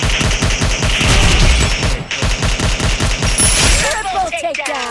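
Rapid bursts of automatic gunfire from a Free Fire MAX battle royale match fill the clip, loud and continuous with rhythmic shot pulses, a brief gap near the middle, and electronic game effects toward the end.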